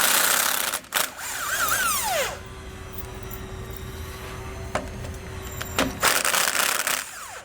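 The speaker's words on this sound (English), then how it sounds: "You want to use a 17mm socket to pull those out." Cordless impact tool spinning out bolts with a 17mm socket on a rear anti-sway bar under a 2014 Forest River RV, steady close whirring bursts broken by short pauses.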